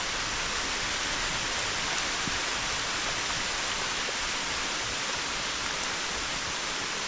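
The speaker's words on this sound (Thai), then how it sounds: "ฝนบ่แห้งแต่ว่าฝนตก" Steady rain falling outdoors, probably in Luang Prabang, Laos, during a rainy food-foraging trip: a constant broadband hiss that stays even and fairly loud across the whole stretch, with no voices and no distinct drops standing out.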